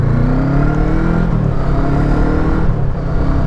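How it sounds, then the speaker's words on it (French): Deep, low exhaust note from a Voge 500 R motorcycle, a steady loud rumble with slowly shifting harmonics as the engine holds and gently varies its revs, heard close and alone. "on le voit dès le démarrage, on l'entend plutôt, puisqu'il s'agit de l'échappement"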